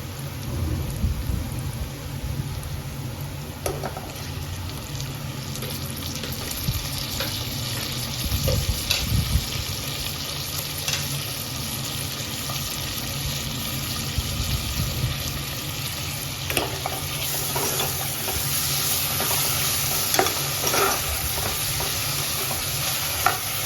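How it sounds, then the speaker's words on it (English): Onion and tomatoes fry together in a pan with a loud, dense, continuous sizzle and crackle, broken now and then by stirring scrapes, heard up close without any voices. "the onion is still going to fry along with the tomatoes as well"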